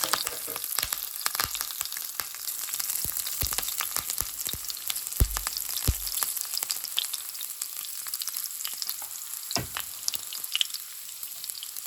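Green chilli, curry leaves and cumin seed fry in a pan for a fasting dish, giving a steady, close crackling sizzle scattered with sharp pops and spits that carries on alone without any talk.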